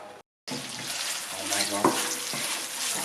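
Culatello ham sizzles and crackles steadily in a hot pan, with a few brief stirring scrapes and pops, after a short silent gap at the start.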